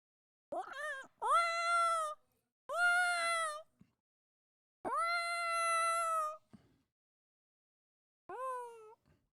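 A man imitates a cat with his voice, giving four drawn-out tonal meows spaced by pauses, close and clear with no other sound.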